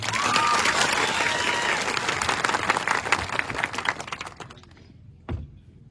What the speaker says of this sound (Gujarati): બધા માટે આપણે એકવાર જોરદાર તાળીઓ પાડીએ